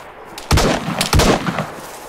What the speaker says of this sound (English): someone's shooting on me now